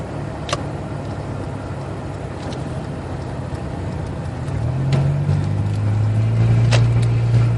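A car driving uphill with a steady low engine hum under road and cabin noise, the engine note deepening and growing a little louder toward the end as it works harder, close and without talk.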